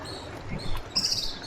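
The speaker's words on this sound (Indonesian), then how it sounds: "hanya terdengar suara-suara burung" Faint bird chirps in a quiet spot in Bali over a soft, steady background hiss, with a brighter high tweet near the end.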